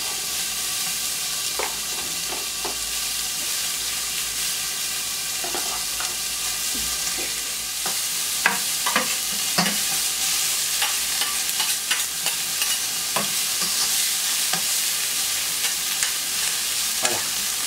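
Sweet pepper and onion fondue sizzles steadily in a pan for Basque-style grilled chicken, a constant hiss broken by occasional scraping stirs and small pops.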